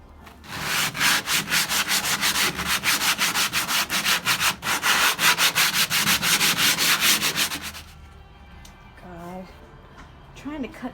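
Wood is sanded by hand with sandpaper in quick, rhythmic back-and-forth rasping strokes, loud and close, for about eight seconds. Then it stops and a voice speaks quietly.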